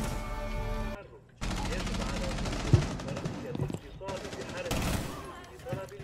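Bursts of automatic gunfire fill a tactical shooter video game, coming in dense rapid volleys that cut out briefly and resume, loud and close, with a player's voice heard between them.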